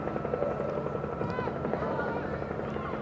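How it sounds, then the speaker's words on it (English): A helicopter lifts off beside a junior girls' football gala day pitch, its steady rotor drone filling the scene from start to end, mixed with crowd chatter and commentary voices. "And the helicopter takes off again."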